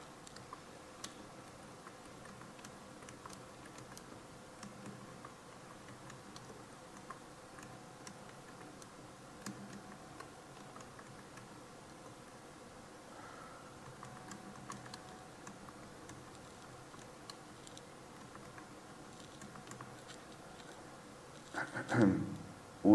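Keys tapped on a computer keyboard as text is typed, a quiet, irregular patter of soft clicks continuing throughout, ending with a brief louder rustle.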